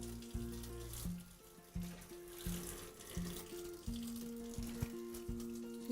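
Water runs steadily from a tap for a pet cat, a continuous splashing hiss with a low hum beneath it.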